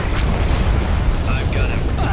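Bombs exploding in a war video game: a dense, loud rumbling barrage of deep booms, continuous and close, with voices mixed in underneath.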